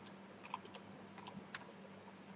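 Python code is typed on a computer keyboard in short, faint bursts of key clicks, with a few sharper taps standing out over a quiet room hum.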